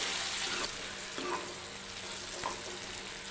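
Chopped dry onion fries in oil with cumin and asafoetida, giving a quiet, steady sizzle with a few soft stirring clinks.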